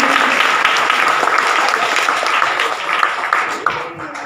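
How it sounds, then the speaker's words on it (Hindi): Steady, loud applause from a crowd at an award ceremony honouring Patna karate talents and Khelo India players, continuous dense clapping for the full length. "तालियां बजाओ"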